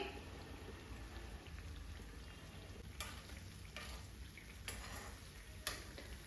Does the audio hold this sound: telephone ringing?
no